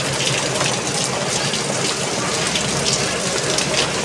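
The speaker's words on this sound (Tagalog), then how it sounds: "Grabe ulan mga idol, oh." Heavy rain pours down in a steady, dense roar of broadband hiss, loud and unbroken throughout, with no voices over it.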